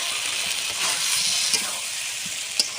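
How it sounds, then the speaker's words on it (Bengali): Fried potatoes and soybeans tipped into hot oil and spice paste for a soybean and pea curry, giving a loud, steady sizzle with brief stirring clatters, close up with no speech. "আমি কিন্তু ভেজে রাখা আলু আর সয়াবিনটা দিয়ে দেবো।"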